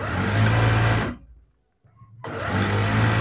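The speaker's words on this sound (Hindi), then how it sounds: "ये हमने सबसे पहले आसन की सिलाई लगानी है" A sewing machine stitches the seat seam of a pair of large trousers, a close, loud whirring motor hum that stops for about a second and then starts up again at the same pitch.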